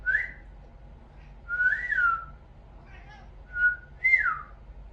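A person whistles a few short, separate notes with pauses between, some sliding up or down, fairly close in a quiet room.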